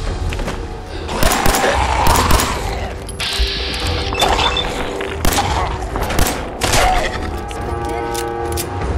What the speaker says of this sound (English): you're seeing some gunplay on Fallout 4 with the 60 frames per second